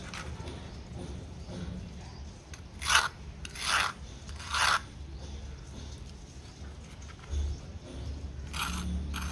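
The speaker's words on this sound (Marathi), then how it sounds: "भजी किती कुरकुरीत झाली आहे त्या आवाजावरून लक्षात आलंच असेल" Crisp bites into fried colocasia leaf fritters (bhaji) give several sharp crunches in a row near the microphone, then a pause and two more crunches later, over a low background hum.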